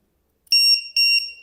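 A drone battery's low-voltage alarm buzzer sounds twice in quick succession, each piercing high-pitched tone lasting about a quarter second, clear and alone.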